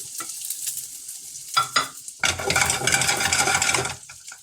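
Ginger and garlic crackle and sizzle in hot oil with mustard seeds for a crab curry, with a few clinks of a spoon, then a louder burst of hissing frying as the pan is stirred.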